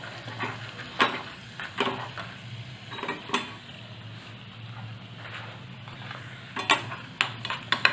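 A utensil stirs red chili powder into a dal tadka in a pan off the heat, giving scattered scraping and clinking strikes against the metal at irregular intervals over a low steady background hum.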